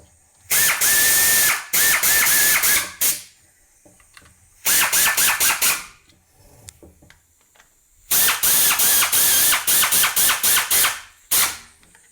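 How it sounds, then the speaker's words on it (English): A ratchet with a 10mm socket drives bolts tight on a Subaru drive belt cover, rapid loud clicking bursts of a second or two each, repeated in three close groups with short quiet pauses between. "Now we'll go ahead and grab our ratchet and our 10mm socket and tighten those three 10mm bolts down."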